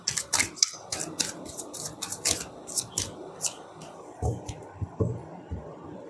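Tarot cards are handled and drawn from a deck, producing a string of light, crisp paper flicks and taps that repeat roughly every half second, close and moderately quiet.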